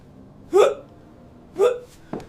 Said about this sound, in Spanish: Todos tuvimos hipo.